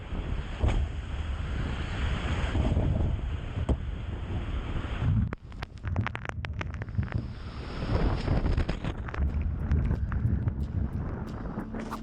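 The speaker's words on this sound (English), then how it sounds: "the wind is too intense" Strong tornado wind roars and buffets a camera microphone, a broad continuous rush that briefly drops out around the middle before surging back with sharp gusty crackles, no voices present.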